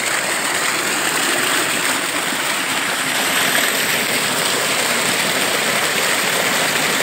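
Water gushing steadily from a belt-driven, solar-powered tube well fed by 36 panels of 300 watts, a dense continuous rushing splash heard up close and loud throughout.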